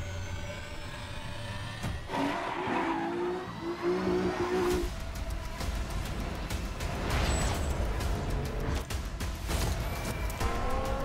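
Race cars from the Gran Turismo 7 video game trailer roar past with revving engines and tire squeal, loud and continuous under a backing score, with shifting engine pitch and brief skids.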